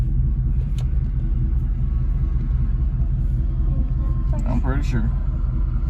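A scrap hauler truck's engine rumbles low and constant throughout while a kid learns to drive it, with a brief voice speaking near the end over the steady drone.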